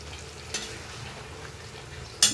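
A cashew and raisin paste is stirred into a simmering meat curry, with a steady soft sizzle and a few scraping spoon strokes, the last one louder near the end.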